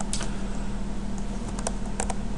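Keys tapped on a computer keyboard, a short quick burst of clicky strokes at close range with a steady background hiss and no talking.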